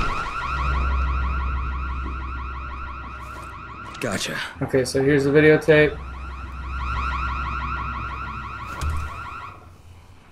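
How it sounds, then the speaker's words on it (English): A house alarm blares in the zombie video game Dying Light, a loud, steady electronic wail that runs throughout, briefly broken by someone talking in the middle. "All I know is the alarm went off."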